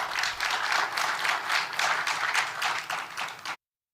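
Scattered applause from a sparse crowd of about 80 in a large room of 400, honouring the new Prime Minister of Poland; steady, even clapping for about three and a half seconds that then cuts off abruptly.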